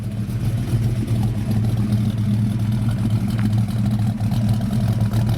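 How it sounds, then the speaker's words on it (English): A 351 Windsor V8 with a lumpy cam idles nearby in a 1936 Ford Cabriolet, a deep, uneven rumble, its low throb loping steadily and continuously without any voices. "But you can hear the cam in it."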